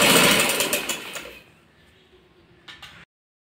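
A sewing machine stitches a child's patiala shalwar in a quick loud burst that slows and fades over about a second and a half, then a short mechanical clack before silence.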